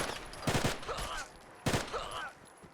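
Rapid automatic gunfire in Fallout 4 (modded) against raiders, two loud bursts of quick shots separated by a short gap, with fainter game sounds between them.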